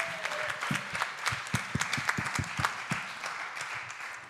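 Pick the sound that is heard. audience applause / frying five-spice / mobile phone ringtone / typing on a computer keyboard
audience applause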